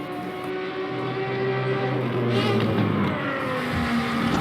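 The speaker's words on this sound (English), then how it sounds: "You might hear these 5-cylinder engines singing once again." Five-cylinder Procar race car engines drone and whine at a practice session, a sustained engine note rising in pitch as the cars accelerate, fairly loud and continuous with no talk.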